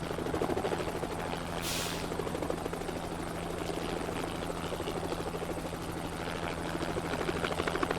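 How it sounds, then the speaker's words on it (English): Steady hovering helicopter rotor drone from SnowRunner, a constant buzzing engine hum with a layered whir that holds evenly throughout, loud and alone without talk. "They make it look like he's hovering, and they give you the sound, but there's no rotor blades turning."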